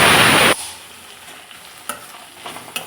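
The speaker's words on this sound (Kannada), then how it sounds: "ಒಗ್ಗರಣೆಗೆ ಕಡಲೆಬೇಳೆ ಹಾಕೋದು ಮರ್ತ್ಬಿಟ್ಟಿದ್ದೆ, ಇವಾಗ ಹಾಕ್ತಾಯಿದ್ದೀನಿ." Chana dal dropped into hot tempering oil sets off a loud, close sizzle that cuts off after half a second. A quieter sizzle and a few light utensil clinks and stirs follow, with no talk.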